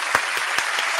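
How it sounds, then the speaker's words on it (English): Studio audience applause on a 1990 ITV game show: dense, steady clapping from a crowd, fairly loud and sustained, with a few sharper individual claps standing out close by. "look at how Steve applauds"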